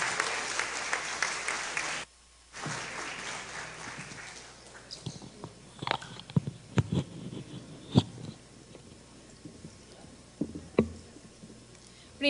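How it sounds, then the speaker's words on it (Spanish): Applause from an audience at the opening ceremony of the Pastaza provincial festivities for the provincial prefect, a dense burst of clapping that breaks off briefly and then trails into scattered claps and noise. "Brindémosle nuevamente un fuerte aplauso al ingeniero Jaime Guevara, prefecto de la provincia de Pastaza"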